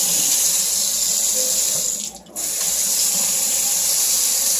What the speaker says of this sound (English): Faucet's working.